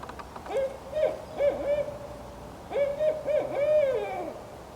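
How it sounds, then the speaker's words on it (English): Barred owls calling in a forest at Wasaga Beach, a series of rhythmic hooting phrases with rising and falling slurred notes, fairly close and clear, in two bursts separated by a pause. "we'll listen more to the barred owls talking to each other"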